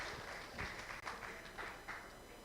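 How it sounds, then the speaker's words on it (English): Faint applause from an event crowd, a steady wash of clapping with a few louder claps standing out, heard at a distance. "Please give round of applause to all of them."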